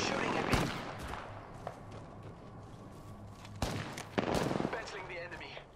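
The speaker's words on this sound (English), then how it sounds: "The enemies are shooting at me." Enemy gunfire in the battle royale shooter Apex Legends, scattered shots and short bursts at moderate distance amid game ambience, a few louder cracks standing out, with talk faintly present.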